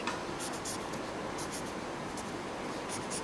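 Chalk or marker writing on a board during a calculus lecture, close scratchy strokes in a continuous run with short bursts of quick taps, no talking.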